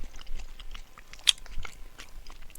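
Chewing a mouthful of chicken tenders mixed with kiwi, skin still on, in a mukbang-style tasting: soft, close, irregular wet munching with a couple of sharper crunchy bites, no talking.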